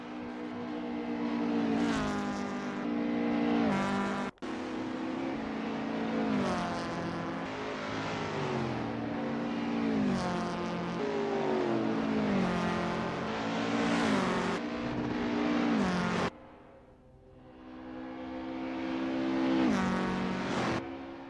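Race cars lapping Autopolis in a racing video game, engines whining and shifting through gears in a continuous loud drone with pitch sweeps, briefly cutting out near the end before revving again.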